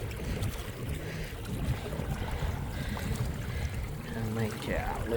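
Kayak paddling on Owsley Fork Reservoir near Berea, Kentucky: soft water swishes and drips from the paddle under steady wind noise on the microphone, close and continuous, with a faint voice near the end.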